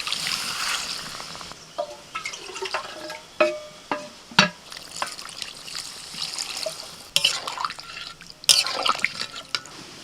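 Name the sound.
water poured into pan of potatoes and spices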